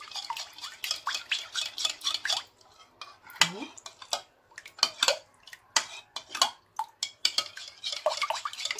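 Eggs stirred together in a bowl for chocolate cake batter, irregular clinks and scrapes of a utensil against the bowl with wet sloshing, close up, with brief pauses between strokes.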